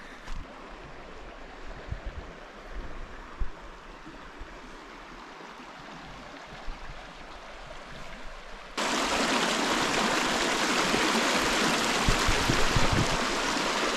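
A shallow stream flows across a hiking trail in Valles Caldera, a steady broadband rush of running water that jumps suddenly louder and closer partway through, with no voices.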